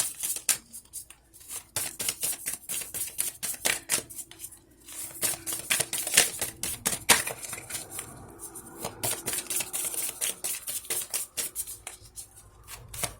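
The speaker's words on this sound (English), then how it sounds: "going to shuffle one more time" Crisp, rapid riffling and slapping of a deck of tarot cards being shuffled repeatedly, close up, in bursts with brief pauses, no talking.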